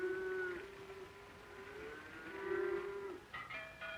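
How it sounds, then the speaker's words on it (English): Cows being driven to mountain pasture moo in long, drawn-out calls, several overlapping lows close by and moderately loud, with a higher call near the end. "When the weather grows warm, the cows are driven to pasture in the mountains."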